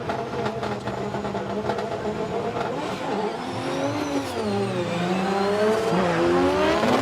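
A Formula Drift Japan car driven by Shengjun Zhang accelerates hard through a chicane at Ebisu. A loud, continuous engine roar climbs and shifts in pitch with sustained revving, and tire noise runs beneath it.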